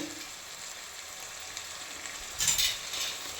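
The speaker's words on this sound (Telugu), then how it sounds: "చూడండి, మంచిగా ఉడుకుతుంది మన చికెన్ ఈ మసాలాస్ అన్నింటితో" Chicken coated in chilli powder, turmeric and ginger garlic paste cooking in a pan, a soft steady sizzle with a brief louder scrape of stirring partway through, heard on its own.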